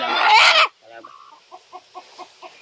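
A chicken clucks in a rural yard, a series of about six short, evenly spaced clucks coming close and clear after a loud burst of talking at the start.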